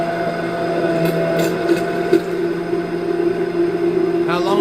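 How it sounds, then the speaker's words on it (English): Steady electric hum of a handheld mixer or stick blender whirring through homemade mayonnaise in a kitchen, a continuous motor drone with light rattles, running close and fairly loud without pause. "Use a hand mixer or a hand wand"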